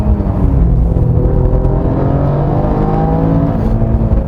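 Toyota GR Yaris engine pulling hard on a winding mountain road, a loud, steady drone of engine and road noise holding high revs throughout, with no speech over it.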